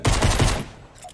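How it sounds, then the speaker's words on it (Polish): Three quick, loud shots from a weapon in Fortnite, evenly spaced in a short burst, then a fading echo and near silence. "Dobra, może strzelimy do niego kilka razy."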